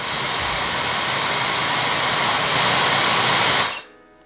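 A brushless hair dryer blows with a steady, loud rushing whoosh of air that holds evenly, then cuts off abruptly near the end.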